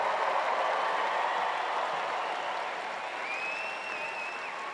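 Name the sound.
audience applause for graduates at commencement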